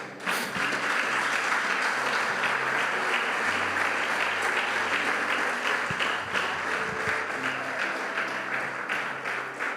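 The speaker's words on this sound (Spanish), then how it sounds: "Denle un fuerte aplauso a Dios." A church congregation breaks into sustained applause, a dense, even wash of many hands clapping that carries on strongly throughout, with a faint hum beneath.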